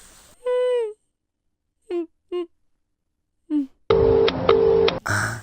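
Phone dialing tones heard while calling someone back: several short separate tone bursts spaced across the first seconds, followed by a steady, louder ringback pattern of repeated beeps near the end.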